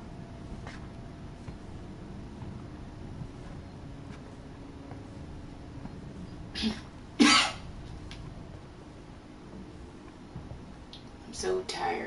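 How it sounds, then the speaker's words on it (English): A person coughs a few times, one sharp, close cough standing out mid-way and a couple of quieter ones near the end, over faint room noise. "I'm so tired of the coughing."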